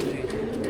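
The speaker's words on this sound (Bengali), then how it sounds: "ওনার বাসায় যেসব কবুতরগুলো আছে" Pigeons coo steadily in a fancier's loft on a rooftop in Dhaka, a low, continuous warbling murmur that carries close and fairly loud through the whole short stretch.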